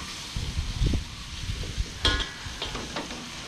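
Soft sizzling and scraping of vegetables being stir-fried in a hot wok, with a few sharp clanks of a utensil against metal, close by.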